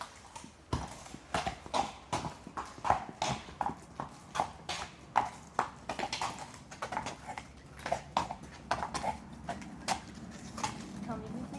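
Horse hooves clip-clop in a steady repeating rhythm as the animal circles on a lunge line during a lunging demonstration, fairly close and clear, with a few faint voices in the background.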